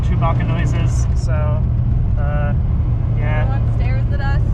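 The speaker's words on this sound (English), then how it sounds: "the carbs make cool Chewbacca noises" Carbureted 16-valve 4AGE engine roaring through its intake while driving, a constant loud low drone heard from inside the car, with people talking over it.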